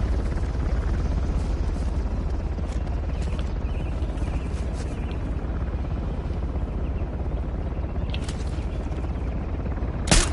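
A helicopter in the PS5 game Uncharted, a steady loud rotor drone with low rumble that runs unbroken through the whole stretch, with occasional sharp cracks like gunfire over the top.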